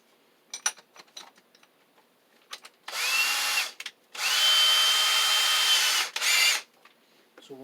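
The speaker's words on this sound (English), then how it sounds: "So let's get started. Let's drill a hole through." A power drill whines loudly in three bursts while drilling a hole through a floor over the sill, the middle burst long and steady, with scattered knocks and clicks between them.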